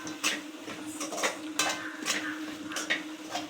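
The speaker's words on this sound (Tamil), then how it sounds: "மசாலாவோட பச்சை வாசனை போகிற வரைக்கும் நல்லா கிளறி விட்டுருங்க" Spice masala for a fish curry (sankara meen kulambu) is stirred in a pot, giving repeated rhythmic scraping and clinking strokes of a utensil against metal, close up with no speech.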